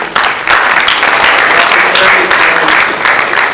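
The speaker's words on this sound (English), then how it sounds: "just put a brief round of applause for both of them" Brief round of applause from an audience at a creative placemaking community talk, steady dense clapping throughout, fairly close and loud, with a few voices mixed in.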